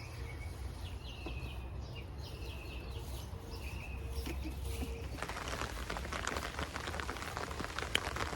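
Rain falls over a container vegetable garden of kale and peppers, a steady soft hiss that thickens into denser pattering drops in the last few seconds, with faint birdsong behind it.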